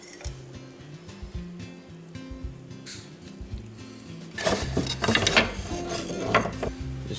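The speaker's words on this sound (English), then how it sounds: "We're gonna stir this up. This is where we're gonna start mixing all this together now." Pancake batter being stirred and folded with plenty of air kept in, a wooden-sounding scraping and knocking that grows louder and busier partway through, close up over a low background hum.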